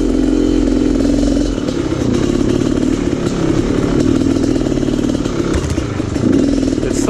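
A 500cc dirt bike ridden on single track, its engine loud and close throughout, buzzing and revving in uneven surges with clattering from the terrain.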